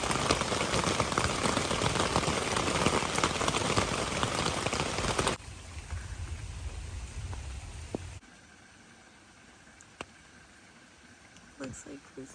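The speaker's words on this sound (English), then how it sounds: "It literally rained the second that we got back to camp from that hike." Steady rain pours down at a forest campsite after a hike, loud and dense at first, then easing to a softer patter before fading to light, scattered drips.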